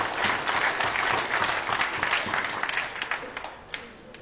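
Crowd at a sporting contest bursts into applause after a made shot, a thick wash of clapping that thins out toward the end into scattered individual claps, with a voice faintly underneath.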